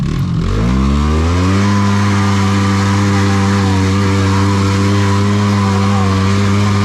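A utility quad ATV in high gear and all-wheel drive revs up hard, then holds a loud, steady, throbbing engine drone close to the listener.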